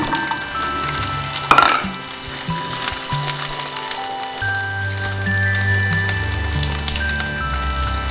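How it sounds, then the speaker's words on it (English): Chestnuts fry in ghee with turmeric in a pan for an Azerbaijani sweet pilaf, giving a steady close sizzle with crackling pops throughout and a brief louder clatter early on, with no talking. "Okay, I'm frying chestnuts."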